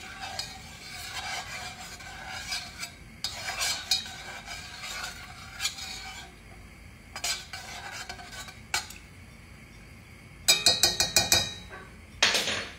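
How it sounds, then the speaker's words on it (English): Food is stirred in a pan with a utensil, giving intermittent scraping and rubbing strokes separated by short pauses, then a quick run of sharper metallic clinks and scrapes near the end. "Stir this around."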